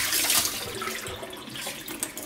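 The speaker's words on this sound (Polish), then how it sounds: "Zalewamy ryż do połowy. I musimy go solidnie wypłukać." Steady running water splashing and trickling as rice is rinsed in a sieve, continuous and close by.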